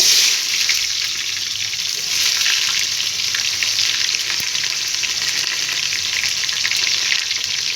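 Onions frying in hot oil with cinnamon, cloves and cardamom for beef wheat-rava biryani, loud, bright, continuous crackling sizzle close by, steady for the whole stretch with no voices.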